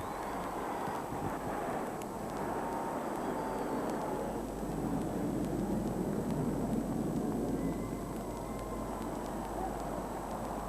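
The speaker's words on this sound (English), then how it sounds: "Puma helicopters flying the national flag." Four Puma helicopters fly overhead in formation, each carrying a national flag, at the South African presidential inauguration; a steady broadband rotor and engine rumble with wind noise fills the whole span amid a distant outdoor crowd.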